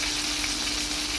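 Potato and eggplant fry in soybean oil in a kadai, giving a steady, close, continuous sizzle with no pauses and no talking.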